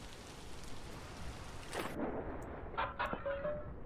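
Rain falls in the survival game Vintage Story as a soft, steady hiss of drops, with brief higher clicks and a faint tonal chime partway through; no one speaks.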